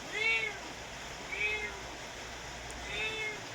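A cat rescued from a toilet bowl lets out three separate meows, evenly spaced and moderately close, with a faint steady background hiss.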